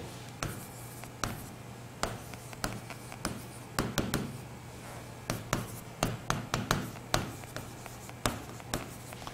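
Chalk or marker writing on a classroom board during a chemistry lesson, heard as close, irregular taps and short strokes in bursts over a low steady hum, with no talking.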